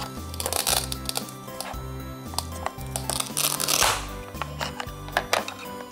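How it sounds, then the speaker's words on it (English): Pineapple being cut in a toddler food-learning setting, a string of sharp crunchy chops and crinkles repeating in an irregular rhythm, close and fairly loud, with no talking. "Let's cut the pineapple."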